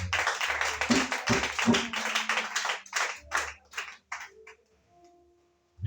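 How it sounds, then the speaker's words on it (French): Children clapping their hands in a church Sunday school, a burst of close, uneven claps and light applause that thins out and fades to near silence. "Acclamez très fort pour la vie des enfants."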